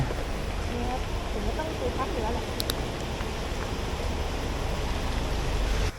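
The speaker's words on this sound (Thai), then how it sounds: "ฝนก็ไล่มานะ ตกอย่างหนักเลย" Heavy rain pours down steadily as a dense, loud hiss that never lets up, filling the whole stretch.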